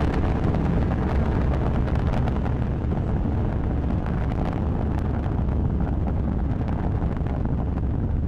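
SpaceX rocket launching the Israeli Amos-17 satellite, a continuous loud broadband roar with deep rumble and crackle, steady throughout like distant rocket exhaust mixed with wind buffeting.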